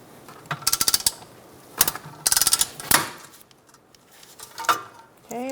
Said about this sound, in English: Using a 10mm socket, we're going to take down this charcoal canister cover